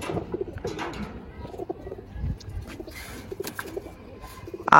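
Pigeons coo in short throaty bursts at close range, mixed with rustling and shuffling, and a sharper sound breaks in at the very end.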